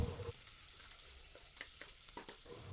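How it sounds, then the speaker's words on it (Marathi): Onion sautés in oil inside a pressure cooker, a quiet steady sizzle broken by short scraping stirs and light taps as it is moved around the pan. "त्याचबरोबर कांदा टाकून घेतलेला आहे. आता ते आपण चांगलं परतवून घेऊया."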